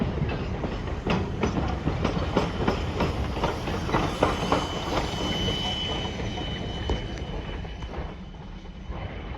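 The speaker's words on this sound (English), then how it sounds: "It's a train going backwards." A train moving in reverse near the Oregon coast, rolling past with steady rumble and repeated clickety-clack wheel knocks on rail joints, fairly close and sustained throughout.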